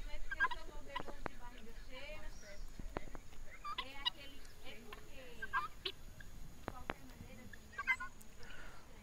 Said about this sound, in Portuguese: galinha da Angola, o guiné, ele bota ovo 6 meses, né?